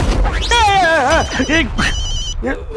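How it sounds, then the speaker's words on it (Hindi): In a scene from the Hindi sitcom Taarak Mehta Ka Ooltah Chashmah, a brief electronic mobile phone ringtone chimes right after someone speaks loudly, with talk continuing around it. "वो मेरे मोबाइल का रिंगटोन है सर"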